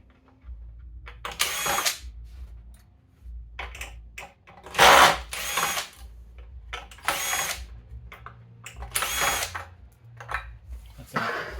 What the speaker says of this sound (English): I'm going to take off these 4 screws.